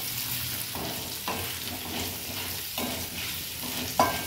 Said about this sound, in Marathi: तर याला चांगल्या प्रकारे आपल्याला मिक्स करून घ्यायचं आहे।